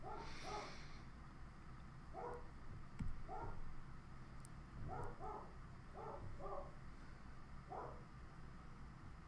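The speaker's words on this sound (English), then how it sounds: "Sorry if you can hear my dog barking." Faint dog barks in short pairs and singles, spaced a couple of seconds apart, distant and muffled over a steady background hum.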